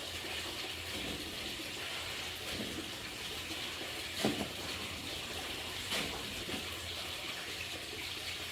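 Water runs steadily into a container from a tap, a continuous close hiss and gurgle with a couple of faint knocks.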